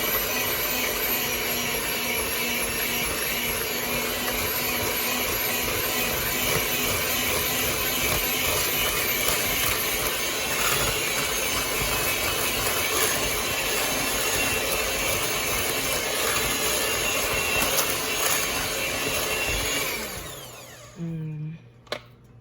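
An electric mixer whirs through eggless pumpkin cream cheese muffin batter, a loud continuous high whine that runs steadily for about twenty seconds before cutting off, followed by a few faint clunks.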